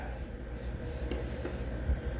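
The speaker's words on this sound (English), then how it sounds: "I'm gonna spray it all up in there." Cleaner-lubricant is sprayed from an aerosol can into the gas system of a JTS T1 12 gauge shotgun with the bolt locked back, giving a close, steady hiss with faint rubbing.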